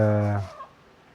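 A single loud, close cluck from a chicken, short and throaty, fading into quiet.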